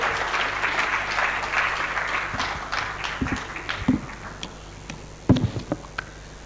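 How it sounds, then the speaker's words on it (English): Applause from an audience at a forum on financing sustainable energy and agriculture infrastructure; broad clapping that thins out into a few scattered, sharper individual claps near the end. "Can we make that applause a lot louder?"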